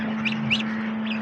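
Geese on a farm give a few short honking calls, three brief bursts over a steady background hum, fairly close and without talk.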